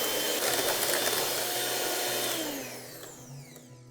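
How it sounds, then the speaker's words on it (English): A hand mixer whirs steadily through carrot cake batter made with vegetable oil, loud and close, then winds down and fades near the end. "we'll just mix this with a hand mixer"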